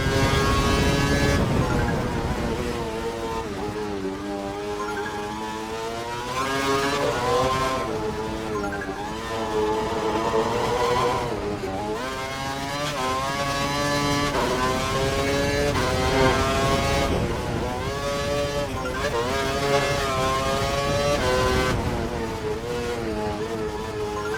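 An F1 car revs and shifts through corners on a wet track in F1 2012, a high whining engine rising and falling with gear changes, close and loud without any talk.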